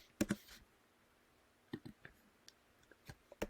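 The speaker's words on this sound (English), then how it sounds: "you just click and drag" A computer mouse clicks while working in a Microsoft Excel spreadsheet, with a few crisp, close clicks, some in quick pairs, spaced apart over a quiet background.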